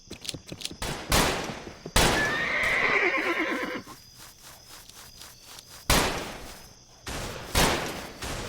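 A horse gives a loud, drawn-out whinny close by, set among sharp bursts of clatter and banging, with a second burst of noise near the end.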